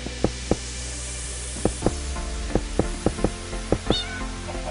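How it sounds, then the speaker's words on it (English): A baby cat in the Minecraft video game meows once, briefly and high, near the end, among a steady series of sharp, loud clicks or taps spaced through the clip, with no talking. "It's a little kitty!"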